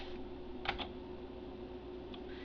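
A few quick computer keyboard key taps come in a short cluster, faint and close, over a low steady room hum, with a single lighter tap shortly after.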